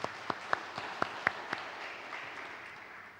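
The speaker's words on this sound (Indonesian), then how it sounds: "Mari kita tepuk tangan bagi kemuliaan Tuhan." A church congregation claps briefly for the glory of God during a late-night service: a handful of distinct, fairly close claps in quick succession that quickly fade into quiet room tone.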